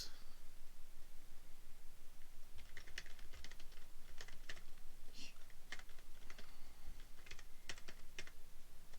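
Fingers tapping out a quiz question on a computer keyboard, a steady run of close, crisp keystrokes with short pauses between bursts, over a faint background hiss.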